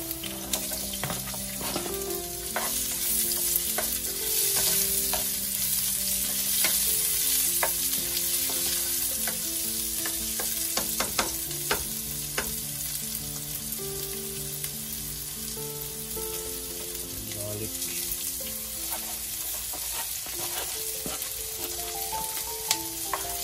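Onions fry in hot oil for a Filipino crab dish of ginataang alimasag, a steady crackling sizzle throughout with clinks of stirring against the pan and quiet music in the background.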